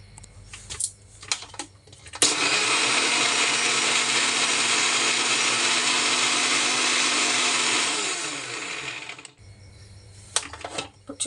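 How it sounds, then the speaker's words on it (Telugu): A blender grinds banana, milk and sugar into a milkshake, running at a loud steady whir for about six seconds before winding down. Clicks and handling noises come before and after the run. "ఇప్పుడు గ్రైండ్ చేసుకోవాలండి."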